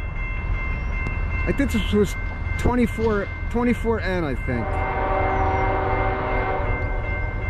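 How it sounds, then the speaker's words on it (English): A Norfolk Southern freight train runs eastbound in New Jersey under a steady heavy rumble, sounding a series of loud, wavering horn blasts partway through while someone talks over the noise. "North and Southern, hammer down eastbound"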